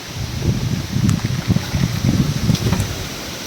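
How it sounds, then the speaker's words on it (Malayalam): Strong gusting wind roars and buffets the microphone in surging waves, with faint rustling and a few light knocks over it. "ഭയങ്കര കാറ്റ് കേട്ടോ പെട്ടെന്നൊരു കാറ്റ്"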